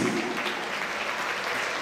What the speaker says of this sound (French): je demande qu'on applaudisse très très fort M. Patrice Coyot.